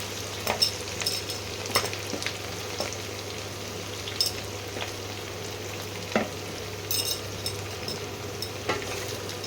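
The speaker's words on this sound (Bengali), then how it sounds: "পেঁয়াজগুলোকে একটু ভাজা ভাজা করে নিই" Chopped onions fry in a hot pan for lamb kasha, giving a steady, close sizzle with a few sharp clicks and scrapes from stirring. No voices.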